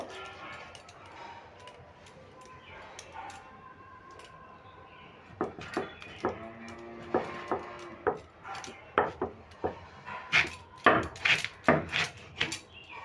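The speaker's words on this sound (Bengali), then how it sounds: "আমি এঁচড়টা কেটে একদম সেদ্ধ করে নেব" Young jackfruit being chopped with a knife on a board, a run of sharp, fairly close cuts that grow denser and louder partway through, with quiet kitchen background before them.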